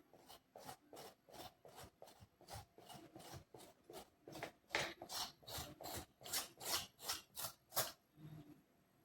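A knife scrapes the white skin off a snake gourd for a Tamil chilli dish, making rhythmic rasping strokes, around twenty in steady succession, close and quiet with no talking.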